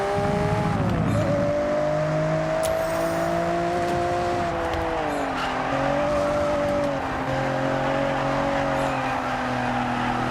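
A Nissan R32 GT-R in Forza Horizon 6 running a flying lap, its engine droning steadily with pitch rising and dipping through gear changes and corners, tire squeal bursts audible, loud and continuous with no talk.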